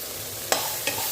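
Okra (ladies finger) sautéing in a pan for a quick kuzhambu, with a soft steady sizzle and two short scraping stirs of a spoon against the pan.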